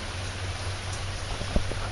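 Steady rain falls on a yard on a Florida morning after months of drought, a soft even hiss with a low hum underneath and one brief tap near the end.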